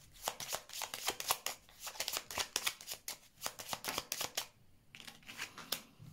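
Oracle cards shuffled and laid out in a rapid run of crisp riffling snaps and slaps, close and fairly loud, with a brief pause before a few final flicks.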